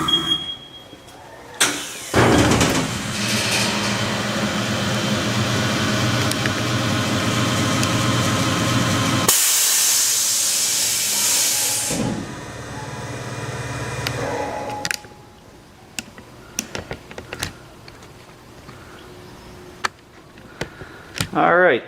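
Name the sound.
tire balancing machine spinning a steel wheel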